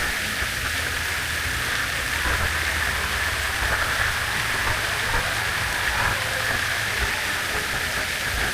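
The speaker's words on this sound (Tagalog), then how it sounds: "Umuulan, guys." Rain pours down at a nature resort near an infinity pool, a constant broad hiss with no break, loud and close, with no talk.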